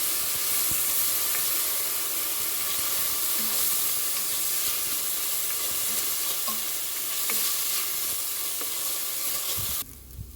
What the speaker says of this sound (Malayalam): കഴുകി വാരിയെടുത്ത് വെച്ച അരി, കായ്മ അരിയാണ്, അത് നമുക്കിതിലേക്ക് ചേർത്ത് ഒന്ന് വഴറ്റിയെടുക്കണം